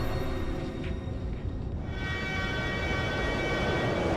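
Subway station ambience from the video game Hybrid Heaven: a steady, loud mechanical rumble with a faint tonal hum and a high whine fading out partway, no speech.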